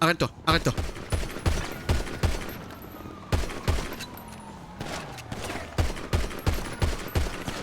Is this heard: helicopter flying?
no